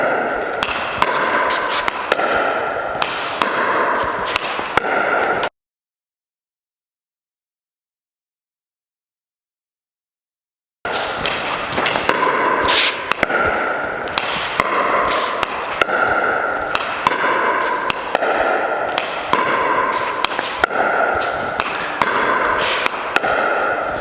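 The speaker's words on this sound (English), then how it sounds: "we're just going to dink a couple of times and watch my eyes" Pickleball dink shots trading back and forth, with crisp paddle pops in a steady rhythm, close and clear, broken by a silent gap midway before the rally resumes.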